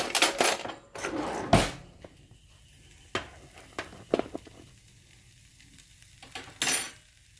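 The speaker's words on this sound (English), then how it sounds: "You guys can just sit there and listen to it sizzle." Homemade turkey Spam sizzles and crackles in a hot pan, with scattered clinks of a fork and utensils against the pan over the steady frying hiss.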